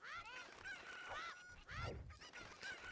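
Cartoonish chickens in the video game Ocarina of Time cluck and squawk in quick overlapping calls, faint and close together in a busy flock.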